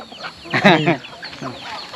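Chickens cluck in short, close bursts, one louder squawking cluster in the middle followed by softer clucks.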